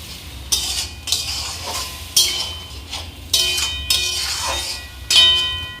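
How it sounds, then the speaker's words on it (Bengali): Dal poured into a hot pan of spiced mustard-poppy paste with nigella seeds and turmeric, then stirred, giving a series of close metallic scrapes and clinks of a spoon against the pan, repeating in short bursts about every second. "ডালটা ঢেলে নেড়ে দেবো"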